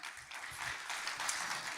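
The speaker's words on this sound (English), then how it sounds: "big round of applause" Applause from an audience at a leadership gathering: a quiet, even patter of many hands clapping together, soft and somewhat distant, holding steady without pause.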